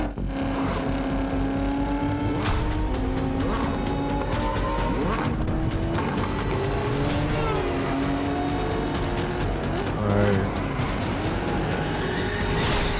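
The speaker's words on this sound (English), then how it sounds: "Nice little drift there." Engine roar and squealing tires from a car drifting in the racing video game Test Drive Unlimited Solar Crown, loud and continuous with shifting engine pitch throughout, with no voices heard.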